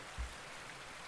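A field recording of flowing water gives a soft, steady hiss throughout, quiet and distant, with a brief low thump near the start.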